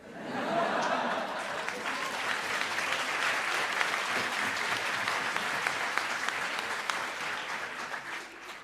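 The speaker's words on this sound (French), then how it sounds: "Vous applaudissez trop." An audience at the final of a student eloquence contest in Paris, 2019, applauds. The applause is sustained, steady and dense for nearly nine seconds, with a faint trace of laughter mixed in.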